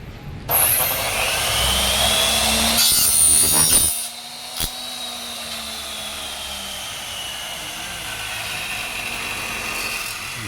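Circular saw with a freshly sharpened blade cutting through wood, a loud whining cut that stops at about four seconds, followed by the blade spinning down and a steady motor hum, close, no talking.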